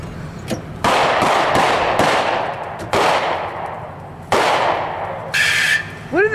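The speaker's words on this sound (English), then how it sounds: "What are they shooting it for?" Several loud gunshots fired by police at a loose cow in Gatineau, Canada, ringing out outdoors as sharp reports spaced a second or so apart, with a brief squeak near the end.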